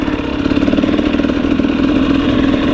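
A 2021 KTM 250 XC TPI two-stroke dirt bike engine runs steadily close by, a continuous throbbing drone with slight rhythmic clatter and no rise in pitch.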